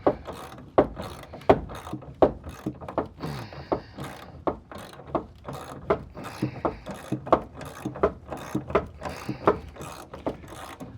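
A ratchet wrench loosening a tight bolt while a steering column is removed from an Avenger GT12, a rapid run of clicking strokes in bursts, close and repetitive without speech.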